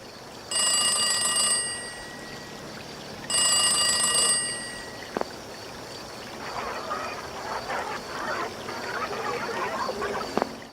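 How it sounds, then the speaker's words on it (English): Green phones ringing in the Inkblot Art Academy level of the Splatoon 2 video game: two loud electronic ringing bursts about a second and a half each, separated by a short pause, followed by a faint garbled murmuring. "The green phones can sometimes be heard ringing"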